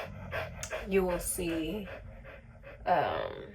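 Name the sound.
old dog panting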